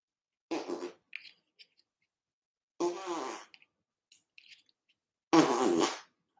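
Three separate fart noises from a handheld pooter fart-sound gadget, each a loud, raspy burst lasting under a second to nearly a second, spaced apart with silence between and small clicks in the gaps.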